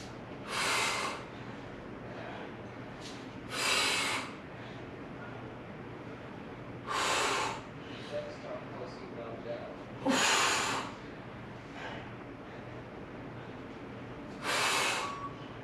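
Forceful exhales during a shoulder press workout, five sharp breathy bursts spaced a few seconds apart, close and fairly loud over a low steady background hum.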